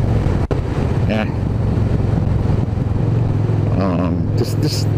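A motorcycle cruises along a morning commute route, its steady engine drone mixed with heavy wind buffeting across the microphone, and brief voice-like sounds come through near the end.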